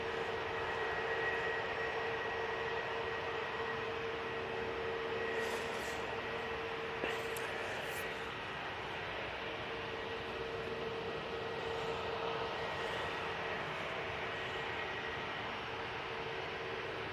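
A Ryanair ATR 72 turboprop airliner in Isle of Man livery drones steadily at a distance on the airfield, a faint continuous engine hum with a few brief higher clicks, no voices.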